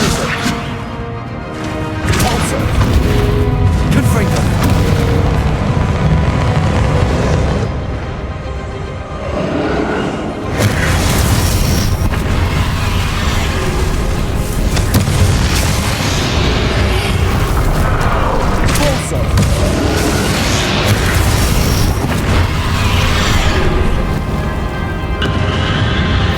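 Confringo spell explosions in the video game Hogwarts Legacy, heavy booms and crashing blasts rolling one into another at high volume with no letup.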